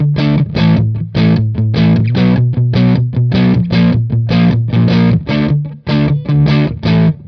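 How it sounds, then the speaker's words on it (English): Overdriven electric guitar picks a steady rhythmic riff of short chords, with a faint springy reverb shimmer trailing behind each hit. "I love that haunting spring reverb that I hear in the background."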